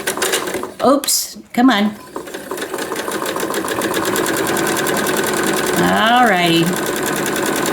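Sewing machine stitching crumb block fabric, a steady close mechanical whir running continuously after a few short starts, with a person speaking briefly over the early part.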